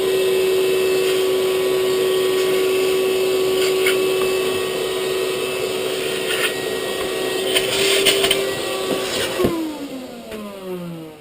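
A household vacuum cleaner hums loudly and steadily beside leopard gecko enclosures, its motor pitch shifting near the end as it is moved about, with scattered clicks and bumps over the drone.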